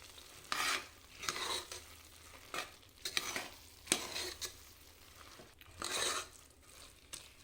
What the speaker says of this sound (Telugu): ఇప్పుడు వీటన్నిటిని బాగా కలుపుకోవాలి.